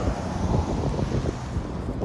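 Seaside wind and surf at Pacific Grove, a steady rough rush of wind buffeting the microphone over a low, continuous wash of waves, close and without talk.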